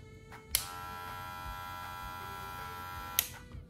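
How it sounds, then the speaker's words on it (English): An electric hair clipper switches on with a sharp click and runs with a steady, close buzzing hum, then clicks off near the end. "So, let's look at this clipper. Doesn't it look pretty cool? Let's turn it on and see how it sounds."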